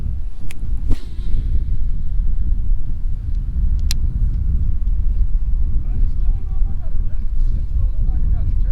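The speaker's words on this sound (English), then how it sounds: "Oh, it's a little windy." Wind gusting across a lake during a fishing trip, a steady low rushing buffet against the microphone throughout, with a few sharp knocks and faint chirps up top.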